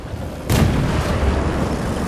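One sharp, loud M47 gunshot in the video game World War 3 breaks out of low background noise, then a heavy booming rumble carries on for over a second.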